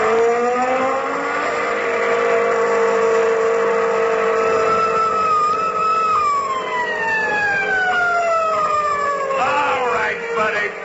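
A speeding car, doing 42 in a 20 zone, roars past with a steady engine drone and a sliding, pitch-bending whine, loud and continuous throughout.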